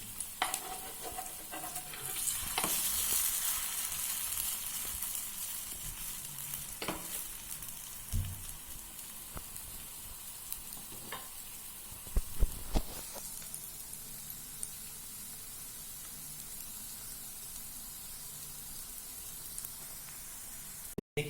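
Coriander fritters fry in hot oil with a soft, continuous sizzle and crackle, punctuated by occasional clinks and scrapes of a spatula turning them.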